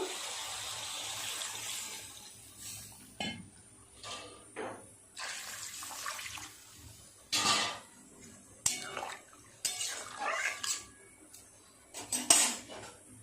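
A lid is lifted off a pot of simmering potato and ridge gourd curry, with clinks and clatters of metal cookware and utensils coming in bursts between quieter stretches, alongside a little running water in a home kitchen.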